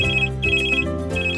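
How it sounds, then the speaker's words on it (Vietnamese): A mobile phone rings in a Vietnamese cartoon, a bright electronic ringtone repeating in short bursts over a steady musical backing, loud and close, with no talking. "Hình như có việc gì đó rất quan trọng, điện thoại cứ reo suốt."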